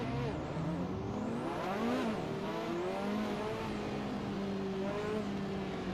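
A car engine in a racing video game revs high, its pitch rising and falling in repeated sweeps as it climbs and drops through the rev range, heard fairly quietly and continuously.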